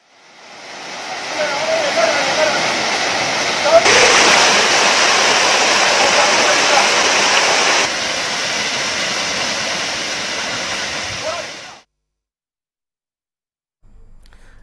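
Kumbakkarai waterfall in Theni, Tamil Nadu, with its flow easing off, a loud steady roar of falling water that continues unbroken for several seconds, then cuts off abruptly.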